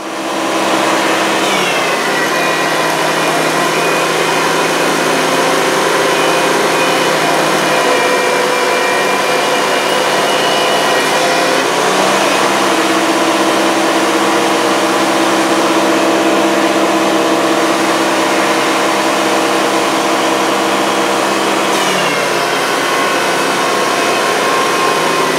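Power planer feeding a rough lumber board through, a loud continuous whining drone with slight pitch shifts as the wood passes, close and steady throughout.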